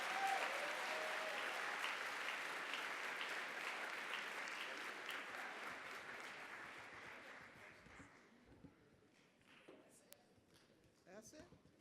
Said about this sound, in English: Let's give all of the contestants a round of applause.